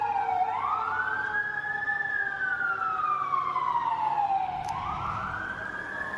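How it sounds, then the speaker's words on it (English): Emergency vehicle sirens wail continuously in the background, their pitch sweeping slowly up and down and overlapping in long rising and falling arcs over a steady low street rumble. "there's obviously a lot of sirens in the background."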